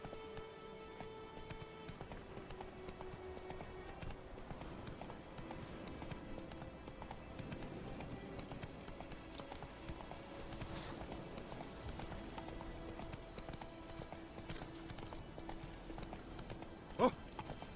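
Roach the horse gallops through the world of The Witcher 3, hooves clip-clopping in a fast, steady rhythm over low music and ambience, with a voice speaking briefly near the end.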